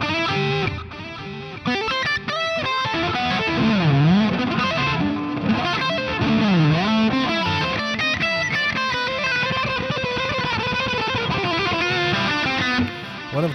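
Electric guitar played through the Marshall amp model of a Mooer GE 200 amp-modeling multi-effects unit, a loud, continuous distorted lead line with bending, wavering notes running throughout without talk.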